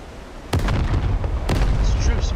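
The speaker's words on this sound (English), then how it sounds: "maybe some artillery fire too." Artillery fire in the DCS flight game during the Omaha Beach D-Day landings: two heavy booms about a second apart over a constant rumbling roar of battle and aircraft engine.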